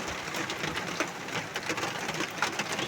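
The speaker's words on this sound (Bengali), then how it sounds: "দাঁড়াতে পারছি না, এত বৃষ্টি" Heavy rain falls outdoors as a dense, crackling hiss of drops. It is steady and broad, with small irregular spatters over its few seconds.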